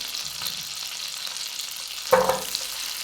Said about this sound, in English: I'm going to gently fry these onions over a low heat for about 10 minutes until they're nice and caramelised